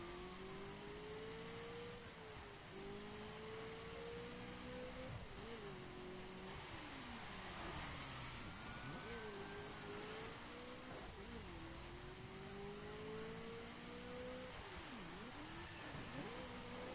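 A Mazda RX-7 engine in The Crew racing game revs continuously, pitch rising and falling through repeated gear changes, loud and close with steady road noise beneath.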